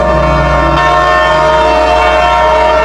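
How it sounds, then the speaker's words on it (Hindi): A loud, wailing train whistle sounds as an old dark brown train pulls slowly into a station. The sustained horn tone holds for the whole few seconds over a low rumbling rail background, with no voices. "एक ट्रेन की सीटी गूंजती है, लेकिन ये सीटी साधारण नहीं, मानो किसी दर्द भरी चीख के जैसी"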